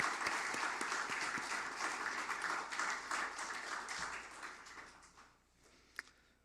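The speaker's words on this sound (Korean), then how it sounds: "박수 한번 해드리면 좋겠습니다" Sustained crowd applause fills a church hall during a pastors' fellowship gathering at a Baptist church, dense and steady for several seconds before thinning out, with one sharp clap near the end.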